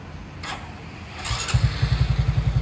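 A Honda Wave 125i motorcycle fitted with a GT7 boost coil cranks briefly twice, then fires up and settles into a close, loud, rhythmic idle putter.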